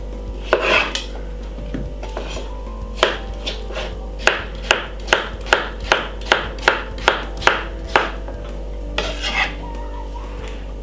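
A knife chops cucumber on a board for a rocket pineapple salad: a run of sharp, evenly spaced chops, about a dozen, with a few scattered cuts before and after.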